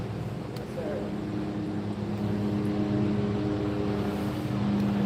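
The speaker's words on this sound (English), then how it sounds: "We've had a helicopter overhead all day." A helicopter flies over a Las Vegas street, giving a steady, low droning rotor hum that fills the whole stretch at an even level, with faint voices mixed in.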